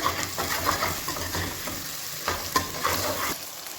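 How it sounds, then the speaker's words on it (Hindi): Onions fried light golden brown, now with garlic-ginger paste added, crackle and sizzle steadily in a pan while a spoon stirs and scrapes, with a few louder clinks; close and moderately loud, no talking, cooking goat trotters paya. "प्याज सारे हल्के गोल्डन ब्राउन थोड़े ठीक है। असां इनके शामिल करेसूं थूम ते अदरक का पेस्ट।"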